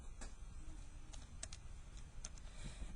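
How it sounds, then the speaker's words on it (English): Fingers tap out a square-root calculation on a calculator keypad, a handful of quick, light clicks scattered over a quiet low hum, close and soft with no voices. "you can check this in your calculator. You'll type what was given to you"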